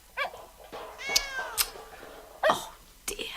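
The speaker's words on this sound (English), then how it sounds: "It sounds as though Pippin is still chasing that cat." A cat meows several times in short, rising calls, fairly close, with brief pauses between them and a little background noise.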